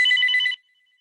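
A telephone rings indoors with one short, bright electronic trill burst lasting about half a second, then falls quiet.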